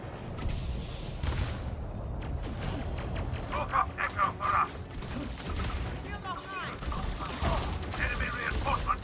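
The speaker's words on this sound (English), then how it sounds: "Somebody's already shooting me." Gunfire crackles in bursts through a video game firefight on a map full of enemies, with rapid shots and a few louder bangs over steady game noise while a player talks throughout.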